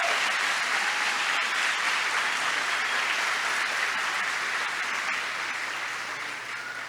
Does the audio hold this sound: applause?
yes